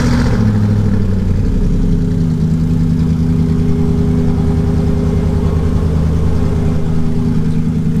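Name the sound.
SLR car engine started and running loudly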